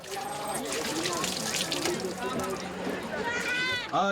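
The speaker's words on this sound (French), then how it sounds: "L'eau du Niger motive les employés à faire le nettoyage en grand." Workers wash a truck with Niger river water, giving continuous splashing and running water close by, with a voice speaking over it throughout.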